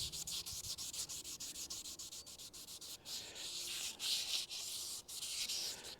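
A Smart car guard has its edges sanded by hand in rhythmic back-and-forth rasping strokes, close and clear, with short pauses between passes.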